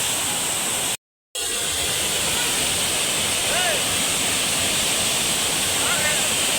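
Kumbakari waterfall roars with a dense, constant rush of falling water, heard close and loud throughout, interrupted by one brief dropout of silence near the start.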